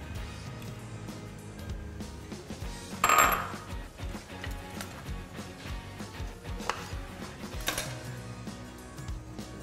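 Olives being chopped on a cutting board in a home kitchen, a few irregular knife knocks set against a dense, busy background, with one louder clatter near the start.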